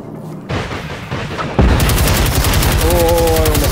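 An enemy in Generation Zero fires on the player: a few heavy shots at first, then a loud, rapid stream of automatic gunfire with a steady rattling rhythm, close and continuous to the end.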